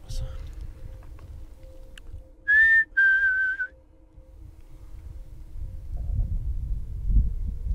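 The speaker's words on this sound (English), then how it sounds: "I swear that was a high-pitched whistle." A loud high-pitched whistle rises, then holds a slightly wavering tone for about a second, set against a quiet low rumble outdoors at night.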